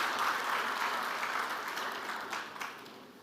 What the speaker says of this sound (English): Let us appreciate our sponsors with a big round of applause.